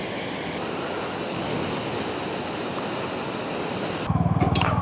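A waterfall near a lake in the Tawang mountains roars as a steady broadband rush of falling water, with wind buffeting the microphone and a brief rumble near the end.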